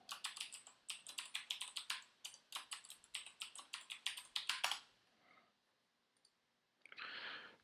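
Root password being typed on a computer keyboard during TrueOS (PC-BSD) setup: a quick run of close, crisp key clicks for about five seconds, then a pause and a short burst of softer hiss-like clatter.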